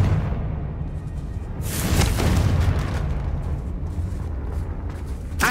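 A Confringo fire spell bursts in the Hogwarts Legacy video game, a loud, broad explosive boom swelling near two seconds and rolling on as a dense roar, with a sharper crack at the very end.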